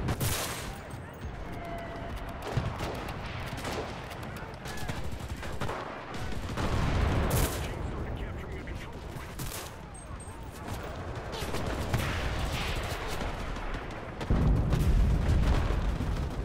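Dense battlefield din from Enlisted's D-Day invasion: continuous rattling gunfire and fusillades with heavy booming artillery blasts, loud and sustained throughout, swelling near the end, with occasional voices mixed in.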